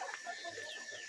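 Chickens cluck in short, scattered calls at close range in a backyard flock with a rooster, soft and steady over a light rustling background, with no talk.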